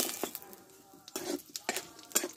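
Bay leaf, three dried chillies and panch phoron hitting hot oil in a pan, with a soft sizzle broken by several sharp clinks and scrapes of a utensil against the metal, close and fairly quiet, no talking.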